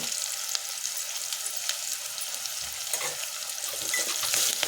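Onions and turmeric frying in hot oil, with dense, bright sizzling heard close, broken by a few soft stirring scrapes and clicks, growing slightly louder toward the end.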